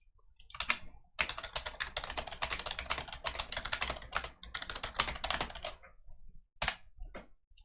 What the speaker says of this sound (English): In the meantime, I will type it out.